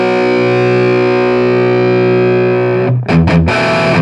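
A Diezel VH Micro Mini amp pushed into high-gain distortion rings out as a loud, sustained distorted guitar chord, then cuts off into a few quick choppy muted stabs near the end.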